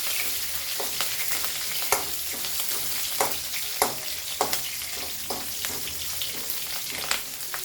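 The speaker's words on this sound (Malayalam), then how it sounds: "നമുക്ക് അതിലേക്ക് ഇഞ്ചിയും പച്ചമുളക് രണ്ടെണ്ണം ഇട്ടിട്ടുള്ളൂ" Ginger and two green chillies fry in a pan with a steady close sizzle, while a spoon scrapes and stirs at irregular intervals, leaving sharp clicks over the hiss.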